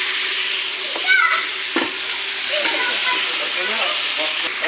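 A large pot holding twelve kilograms of meat with rice sizzles and hisses steadily up close, with occasional clanks and stirring scrapes and faint background voices.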